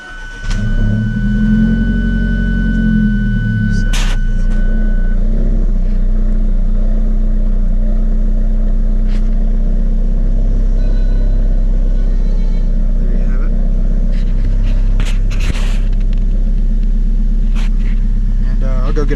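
An Alfa Romeo 4C engine catches on a cold start with a brief rising rev, then settles into a loud, steady, low rumbling idle that runs on alone, with a few light clicks and knocks nearby.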